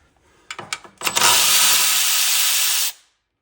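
Power tool spinning out intake manifold bolts on a 6.7 Powerstroke engine: a few short bursts, then a steady close, loud whirring hiss lasting about two seconds before stopping abruptly.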